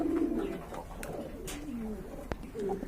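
A pair of Koka pigeons at a pigeon sale coo softly in low, rolling calls, with a few faint background clicks.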